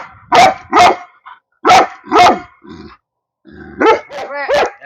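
Large Cane Corso dogs bark loudly and deeply up close, in pairs of heavy barks separated by short pauses, then a rougher burst of barking with growly edges; nobody speaks.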